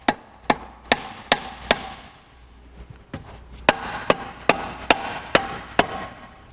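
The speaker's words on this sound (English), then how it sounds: "just get a rubber mallet or whatever you can and just start tapping this" A rubber mallet taps a Hellcat supercharger in sharp, evenly spaced knocks, a run of about five, a brief pause, then another quicker series, close and moderately loud.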